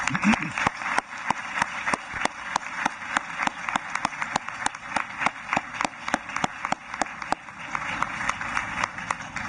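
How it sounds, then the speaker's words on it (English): A crowd at a university graduation ceremony applauds the graduates steadily, many hands clapping in a dense, continuous patter that holds at an even level throughout. "could we please have a round of applause for all of the graduates?"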